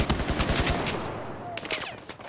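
Rapid bursts of gunfire crack close by in the shooter game Battlefield 4, a fast volley up front followed by scattered shots after a short pause.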